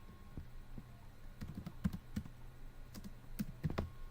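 Scattered clicks of a computer keyboard in a quiet room, typed in short irregular bursts, close and fairly soft, with no speech.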